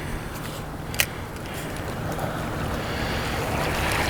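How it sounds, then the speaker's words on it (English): Rough open water churns around a small fishing boat, a loud, steady wash of waves and wind buffeting the microphone, with one sharp knock near the start. "these waves is just going crazy"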